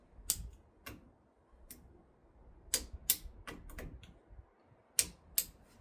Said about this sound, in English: This is the torque wrench that the pistols are shipped with